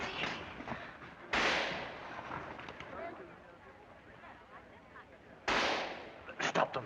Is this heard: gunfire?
yes